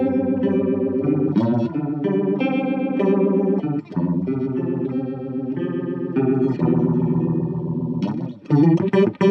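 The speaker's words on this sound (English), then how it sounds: "So let's go ahead and give these guys a sound test. We will start with the phase shifter." Electric guitar from an Electra MPC outboard phase shifter effect, played alone: sustained distorted chords and riffs with sweeping, swirling modulation, loud and continuous with brief pauses and a busier strummed passage near the end.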